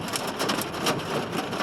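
Steady rain pours down at an outdoor Renaissance festival, a dense continuous hiss with faint rumbling, loud and unbroken throughout.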